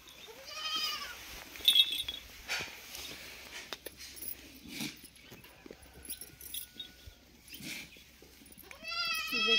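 Goats bleat repeatedly during goat milking, high wavering calls rising clearly at the start and again at the end, with quieter shuffling and farmyard noise in between.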